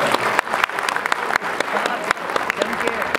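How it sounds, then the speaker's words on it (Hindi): Loud, dense applause from a large audience at a poetry recital event rolls steadily for about three seconds, with sharp individual claps standing out from the crowd's continuous clapping. "एक बार जोरदार तालियां बजाकर"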